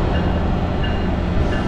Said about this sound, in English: Welcome aboard Amtrak's northbound 769.